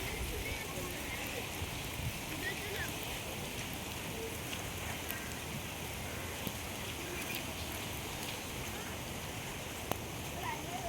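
Heavy monsoon rain pours down in Konkan, a steady, fairly faint hiss of rain on surfaces with running floodwater, continuous and unbroken.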